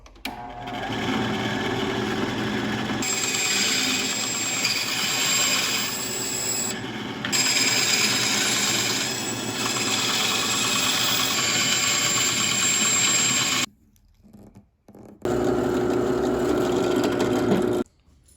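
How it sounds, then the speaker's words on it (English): A bandsaw cuts wooden parts for a toy backhoe loader, its motor running in long, steady whining stretches with a rasping blade, broken by two brief stops before it resumes. "All right, more quality time with the bandsaw."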